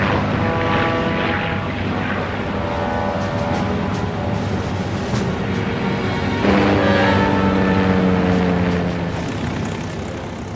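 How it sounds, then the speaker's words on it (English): B-25 Mitchell bombers take off one by one from the flight deck of the aircraft carrier Hornet in archival wartime footage, their piston engines and propellers droning loudly and continuously, with the pitch rising as one passes close. "one by one, the bombers lumbered down the flight deck and clawed their way off"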